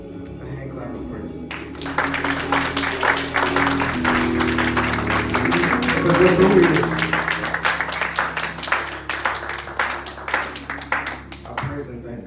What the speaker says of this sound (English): hand clap of praise.